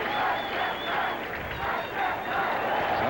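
A baseball stadium crowd at a night Reds–Mets game gives a steady, sustained ovation, a broad wash of cheering and clapping with a broadcaster's voice talking over it.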